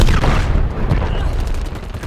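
Gunfire in the online shooter Dirty Bomb during a sniper exchange, a loud burst of overlapping shots and booms up front that fades into a rumbling tail.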